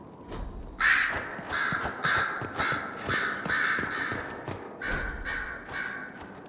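Several crows caw in a Dragon Age video game, a run of harsh, rasping calls repeating in quick succession for several seconds, fairly close and prominent with no speech over them.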